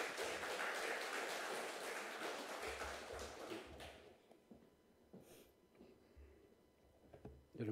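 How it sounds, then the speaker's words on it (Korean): Church congregation applauding a pastor as he comes forward, loud dense clapping for about four seconds that then thins out into scattered claps and murmurs. "박수로 청할게요."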